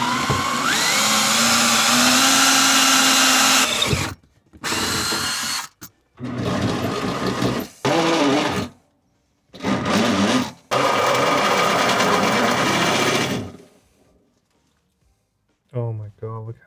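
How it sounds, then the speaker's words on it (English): A power drill whines in long, loud bursts, drilling a hole in a Ford Transit MK6 van for an underslung waste tank, stopping and restarting several times with short pauses between runs. "I'm gonna drill a hole and see where it's gonna come out"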